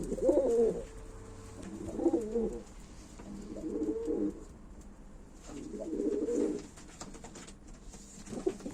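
Game pigeons coo at a live bird auction, giving four or five soft, rhythmic bursts of cooing at an even pace, close by but quiet.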